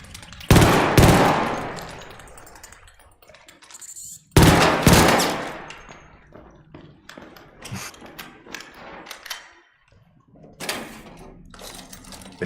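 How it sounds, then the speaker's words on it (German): Rapid gunfire in a video game, two loud bursts of shots at the start and again near the middle, followed by scattered fainter shots and clicks. "Wenn du gut triffst, dann brauchst du eigentlich nur einen Schuss"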